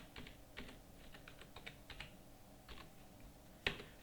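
Quiet typing on a computer keyboard while entering medical store details in accounting software, a quick run of soft key taps ending in one sharper keystroke, close and faint with no talking.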